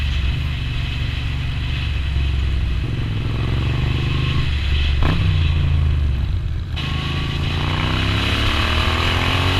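A Moto Guzzi V9 motorcycle with a 55-horsepower engine runs steadily while being ridden on the road, its continuous rumbling drone holding close and loud with slight shifts in pitch throughout.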